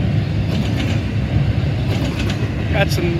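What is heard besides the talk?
westbound intermodal freight train passing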